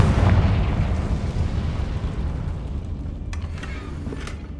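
A Confringo blasting spell explodes in Hogwarts Legacy, opening with a loud, rumbling boom that slowly decays into a long, crackling tail with faint debris clatter and no voices.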